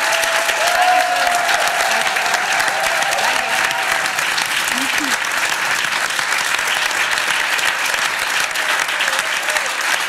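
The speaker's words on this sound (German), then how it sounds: "Ein großer Applaus für Pia." Live theatre audience at the Schauspielhaus Graz applauding actress Pia Hierzegger, a dense, steady wash of clapping from many hands that holds at full strength throughout, with no voices over it.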